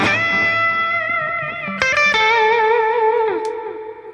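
An electric guitar dialed in for blues plays sustained notes and chord changes drenched in lush reverb, the tones ringing out and slowly decaying.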